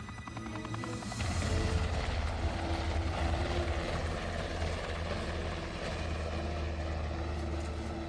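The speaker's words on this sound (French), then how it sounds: "Rancho, l'hélico est incontrôlable avec ce vent." Helicopter in a film storm scene, out of control in strong wind: a loud, steady low rotor and engine drone swells after the first second and holds with broad rushing noise, no voices.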